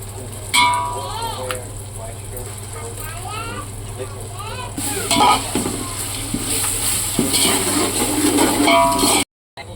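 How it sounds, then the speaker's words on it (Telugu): Ginger garlic paste frying in a pot for a large batch of pulao, giving a steady close sizzle with metallic stirring scrapes under a speaking voice. "పచ్చివాసన పోయేంత వరకు వేయించుకోవాలి అల్లం అల్లం వెల్లుల్లి పేస్ట్ని"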